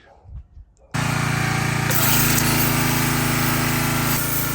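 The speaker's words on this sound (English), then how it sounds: "She's not a very powerful pressure washer." A modest-powered pressure washer switches on abruptly and runs as a loud, steady roaring hiss while it cleans an oily motorbike outdoors on a rural New Zealand property, with faint background noise before it starts.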